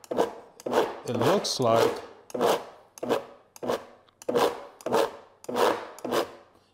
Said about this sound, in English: This is how Vitamix is kneading the bread